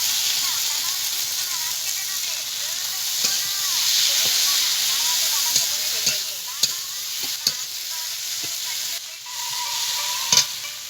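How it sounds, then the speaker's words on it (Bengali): Fried taro hits spiced masala in a pan, giving a steady bright sizzle and hiss close by, with scraping stir strokes and occasional clinks of the spoon against the pan. "এবার ভেজে রাখা কচুটা দিয়ে দেবো।"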